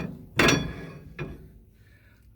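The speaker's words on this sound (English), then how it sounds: "grab the axle and you can pull it out" A Dodge rear axle shaft slides out of its housing during an axle seal replacement, giving a loud metallic clunk followed by a lighter knock and faint ringing.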